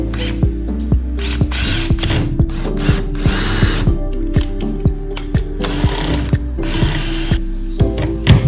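A power drill whirs in repeated bursts as 2¾-inch self-drilling wood-to-metal screws bite into a school bus's metal framing, with rapid ratcheting clicks and sharp metallic grinding, loud and close.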